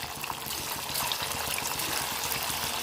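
Flattened-rice pitha frying in hot oil makes a dense, steady, crackling sizzle that stays even and fairly close throughout, with no voices.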